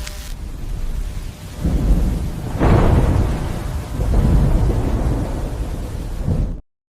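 Thunder sound effect played over a lightning-round graphic on a sports season review show: rolling booms with a rain-like hiss, swelling in several loud surges for about six seconds before cutting off abruptly.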